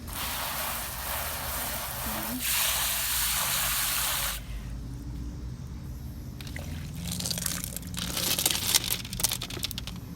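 Water rushes over gritty tumbled rocks as they are rinsed, a loud gushing spray for several seconds, then lighter trickling and sloshing with rattling stones nearby.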